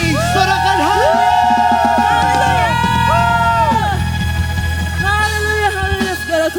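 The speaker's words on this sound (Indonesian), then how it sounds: "Sorakan haleluya." A church congregation at a Christmas service shouts and cheers hallelujah together, a loud sustained crowd of voices with whoops and yells rising and falling, a leader's voice singing over it.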